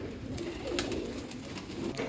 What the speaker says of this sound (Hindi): काला चीना कबूतर है